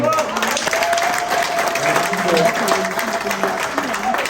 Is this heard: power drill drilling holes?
no